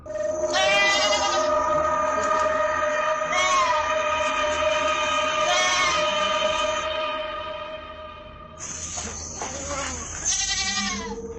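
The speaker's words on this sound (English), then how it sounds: "Penned in, the goats are making loads of noise" Several goats penned in bleating loudly and almost continuously, their overlapping cries close by with a noisy background.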